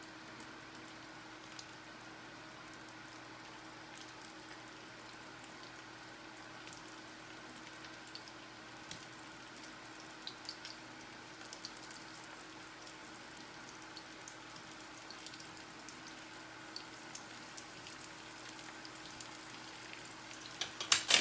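Potatoes fry crisp on a hot griddle with a steady, soft sizzling crackle and scattered pops, continuous and close throughout, with a few faint clicks near the end.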